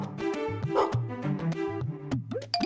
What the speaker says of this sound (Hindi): अरे बाप रे, कुत्ता कुत्ता!